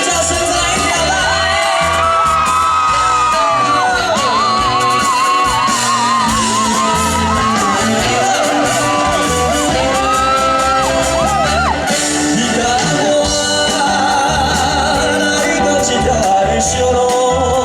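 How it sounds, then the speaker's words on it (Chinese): Crowd at an evening temple-square concert in Tainan screams and cheers loudly and continuously over a live band and sung performance, the shouting filling the whole stretch. "全场尖叫声再一条来！"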